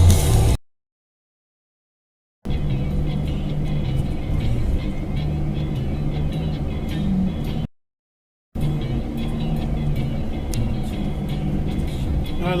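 A car engine hums and road noise rolls on steadily as a Volvo keeps driving without stopping on a New York road, cut by two short silent gaps.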